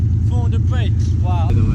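Loud, deep rumble of a BMW E36 with a 3.3-litre turbo engine, a steady throbbing growl, close by, with people talking over it.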